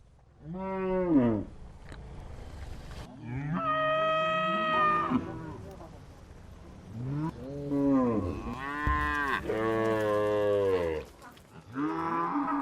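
A large herd of cattle lowing across open grassland pasture, several loud drawn-out moos rising and falling one after another, some overlapping, close by with no other sound between them.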